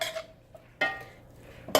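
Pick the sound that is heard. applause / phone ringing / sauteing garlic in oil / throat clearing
sauteing garlic in oil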